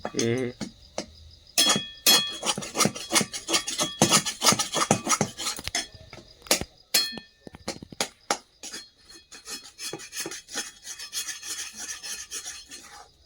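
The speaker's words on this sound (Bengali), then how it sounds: "প্রচুর ঘন স্পিডে খুন্তিটা নাড়তে হচ্ছে, না হলে লেগে যাওয়ার ব্যাপার একটা রয়েছে" A spatula stirred fast in a pan of new potato and pea filling over a wood-fired stove, rapid scraping and clinking strokes, loud and close, with a voice talking over it.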